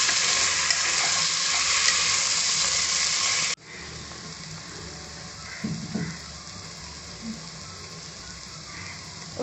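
Potatoes sauté in a pan for egg biryani, a loud close hiss of frying that cuts off abruptly partway through and continues as a quieter sizzle with occasional stirring clatter.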